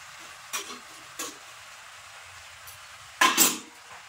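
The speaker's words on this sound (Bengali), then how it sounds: "এবার সুন্দর করে কষিয়ে নেব।" Cumin paste, salt and turmeric powder being sautéed in a pan: a faint, steady sizzle broken by three brief scrapes of a spoon against the pan.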